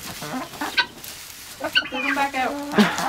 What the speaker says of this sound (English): This is the friendly chicken.